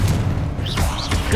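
Confringo fire spell from Hogwarts Legacy on PS5, a continuous low rumbling boom that holds steady with brief whooshing rises and no separate impacts.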